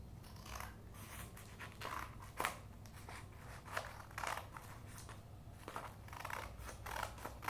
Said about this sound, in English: you have to cut them into equal parts like this. In the middle you have to cut it.